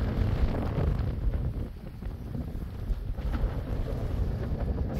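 Strong wind buffets the microphone on the summit of Mount Songak on Jeju Island in cold, rainy weather, making a loud, constant roaring rumble that never lets up, with no voices.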